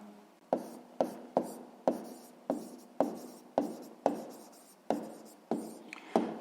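Handwriting in a notebook during a sixth-grade math lesson: a steady series of about a dozen sharp pen or chalk strokes, each a scratchy tap that fades, evenly paced and close, with no speech.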